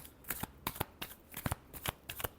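Tarot cards being shuffled up close, a quick series of crisp riffling flutters and soft slaps in an irregular rhythm over a quiet background.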